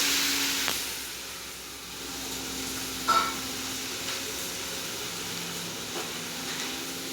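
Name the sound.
egg pockets frying in hot oil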